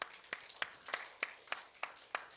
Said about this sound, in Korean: 주님께 우리 영광의 박수 한번 올려드리십시다